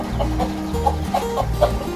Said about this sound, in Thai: พอดีผมได้ยินเสียง ลูกไก่ร้องนะครับ